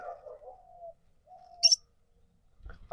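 A yellow parrot and a green parrot kept in a small rooftop garden give a few soft, brief calls and a short sharp chirp, faint and alone with quiet gaps between.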